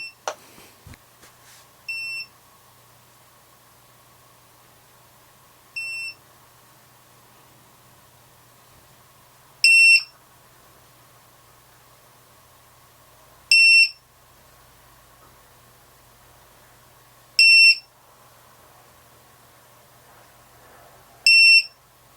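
A ViFly Finder buzzer on a drone with its battery unplugged gives short, shrill beeps spaced several seconds apart over a faint background hum outdoors in a field.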